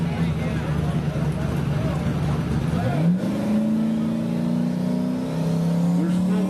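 A 1987 Ford Mustang drag car revs loudly at the starting line of a drag strip, its engine note rising and holding in steady bursts under an announcer's voice.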